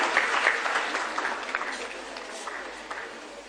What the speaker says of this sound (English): let's welcome this pretty lady with a big round of applause from all of your side